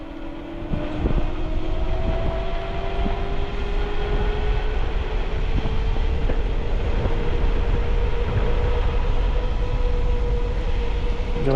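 Knobby tires on a Mongoose XR Pro e-bike with a 1500-watt 52-volt rear direct-drive hub motor roll steadily across a road, a continuous loud rumbling drone with a faint rising whine and no voices.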